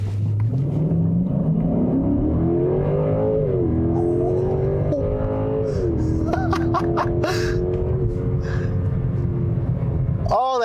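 A 2020 Genesis G90 sedan with a 5.0L V8 and rear-wheel drive accelerates, its engine rising in a smooth drawn-out climb through the gears. A person reacts and laughs over the engine throughout.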